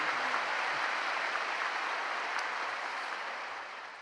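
Congregation applauding the pastor at a church worship service: a broad, sustained wash of clapping from a large crowd that fades slightly toward the end.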